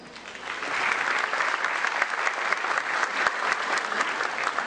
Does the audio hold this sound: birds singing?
no